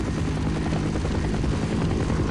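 A helicopter in the game Half-Life thrums continuously with a fast, even rotor chop and steady engine drone, loud and close without pause.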